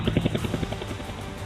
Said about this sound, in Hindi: करीब 1 घंटे तक आसमान में उड़ान भरने के बाद helicopter aircraft carrier USS Carl